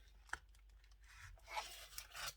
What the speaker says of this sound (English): Just going to push through with my awl.